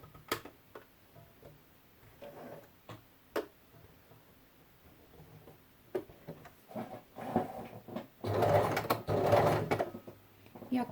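A sewing machine stitches a seam at a steady, unhurried pace, first as sparse ticking clicks, then a louder whirring run of stitching toward the end, close by with no talk.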